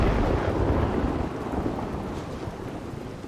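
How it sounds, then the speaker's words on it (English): Lightning strike in Dragon Age: Inquisition, heard as a low, rolling thunder rumble with steady rain hiss beneath, heaviest at the start and slowly fading, fairly quiet and with no voices. "Lightning strike!"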